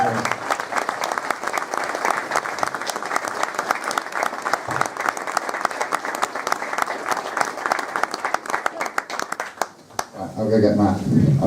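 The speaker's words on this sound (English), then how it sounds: "So I think they deserve a round of applause." A round of applause for a racing team's crew at a BTCC media day fills the room, sustained dense clapping from a crowd lasting several seconds before fading into nearby chatter.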